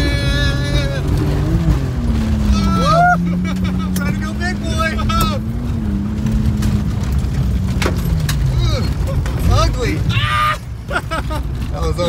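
A beater BMW E36 drift car sliding on a dirt course, its engine revving and wailing up and down under heavy throttle, loud and close from inside the car, with excited voices talking over it.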